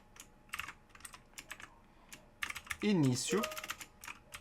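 Computer keyboard typing code, quick irregular bursts of near key clicks with short pauses, while someone speaks in Portuguese over part of it.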